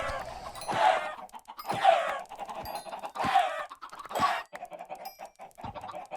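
Chickens in the video game Forever Stranded cluck in about four distinct bursts, spaced roughly a second apart. The sound is fairly close and clear, with no voices.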